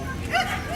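A leashed dog at a K-9 dog club demonstration gives one short, sharp bark, almost a yip, heard up close over low background noise.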